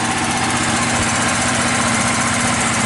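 A DuroMax XP10000EH generator idling on propane with the choke fully open gives a steady, close, continuous engine drone with a rough, even rumble and no change in pace.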